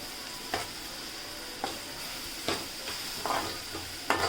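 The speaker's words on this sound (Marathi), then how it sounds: "ही पेस्ट सुद्धा आपण आता चांगली कांद्यामध्ये मिक्स करून शिजवून घेऊयात" Onions cooking in a pan with a paste of ginger, garlic, chili and coriander give a soft, steady sizzle, broken by several sharp scraping stirs of a spoon at irregular intervals.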